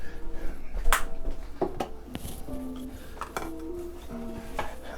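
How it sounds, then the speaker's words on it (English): A metal baking pan for honey butter chicken biscuits is fetched and handled, giving scattered clanks, taps and clinks of metal against a counter, with a few sharper knocks amid quieter shuffling. "now we're gonna get our baking pan"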